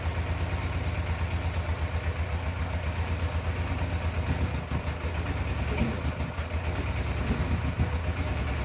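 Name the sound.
Yamaha FZR 1000 motorcycle engine running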